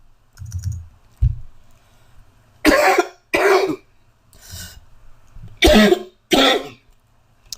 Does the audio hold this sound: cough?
yes